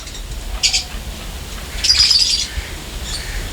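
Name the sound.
pair of chukar partridges, male and female, in a breeding cage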